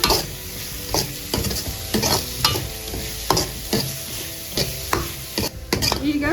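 Cabbage and spring onion are stir-fried in a pan for Singapore fried rice, with a steady sizzle broken by repeated sharp scrapes and clanks of a spatula against the metal.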